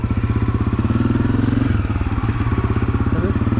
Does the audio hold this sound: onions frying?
no